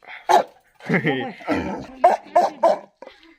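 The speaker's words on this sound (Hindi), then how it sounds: "तो ये है हमारे गांव का सबसे खतरनाक कुत्ता है भाई साहब" A village dog barking close by in a rural hill setting, several short gruff barks spaced irregularly, with people speaking around them.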